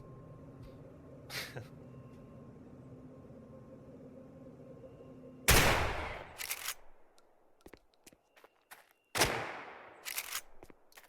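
A 1887 shotgun and pistols fire in the video game Dead Matter: a few sharp, loud reports stand out among scattered quieter cracks and clicks, and the strongest blasts have short decaying tails.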